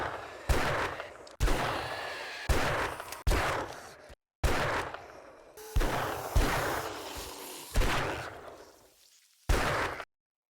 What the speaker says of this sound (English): I'm going to go in guns blazing with the Magnum